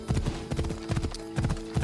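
A horse's hooves clip-clop in a steady trotting rhythm, close and clear, in the game Assassin's Creed Odyssey, with no voices over them.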